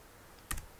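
A short burst of computer keyboard typing as a field label is entered, a quick cluster of clicks in an otherwise quiet room.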